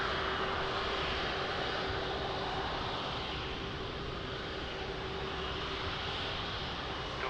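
A jet airliner on approach to land at Lisbon Airport gives a steady, loud broadband engine roar that holds evenly throughout with a faint constant whine, and no voices are heard.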